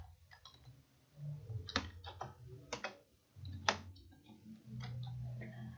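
Close computer keyboard typing, bursts of quick clicking keystrokes separated by short pauses, over a low background hum.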